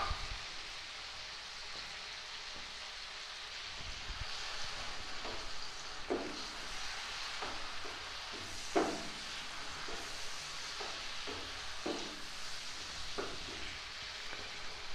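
Tomatoes cook in a pan with a soft continuous sizzle, broken by a series of sharper spatters and scraping stirs that come every second or so, fairly quiet and with no talking.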